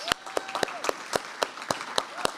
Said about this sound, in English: I think we need to give Cleyvis one more big round of applause.